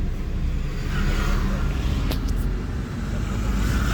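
A car engine accelerates gently during a driving lesson, a low, steady rumble inside the cabin that swells slightly, with faint road noise and an instructor talking over it.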